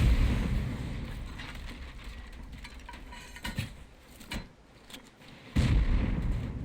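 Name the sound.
rocket explosions during raid in Rust video game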